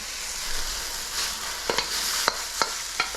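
A prototype Earlywood wok spatula stirs scrambled eggs and tomato in a sizzling wok, the steady fry punctuated by several sharp scraping clacks of the spatula against the metal in the second half.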